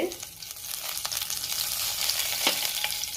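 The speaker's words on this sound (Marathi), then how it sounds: "तेलामध्ये मी जिरे घालते" Cumin seeds hitting hot oil in a pan while cooking bhindi bhaji, a close crackling sizzle with a few sharp pops and stirring scrapes, heard alone for about three seconds.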